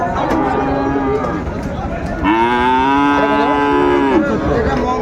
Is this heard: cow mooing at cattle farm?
yes